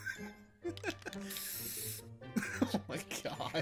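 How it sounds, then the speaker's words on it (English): In the game CS:GO, a graffiti spray gives off one short, sharp hiss lasting under a second, set between bursts of nearby talking and breathing. "Did somebody spray something?"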